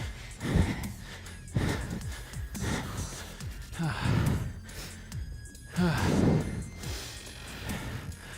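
Heavy, labored breathing during a cardio workout, gasps and sighs recurring in uneven bursts close to the mic, with faint movement sounds in between.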